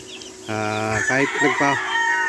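Rooster crowing loudly and close inside a chicken coop, a drawn-out call broken into several segments, with chickens clucking faintly around it.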